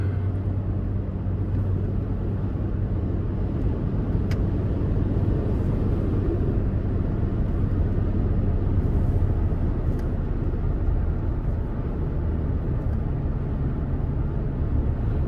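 A 2023 Toyota Tacoma SR Access Cab V6 engine drones steadily under acceleration from inside the cab, a constant low rumble mixed with road noise and no talking.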